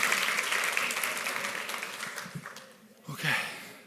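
Audience applause for a volunteer at a magic show, a dense, steady crowd clapping that slowly fades, then a brief swell of cheering or voices near the end.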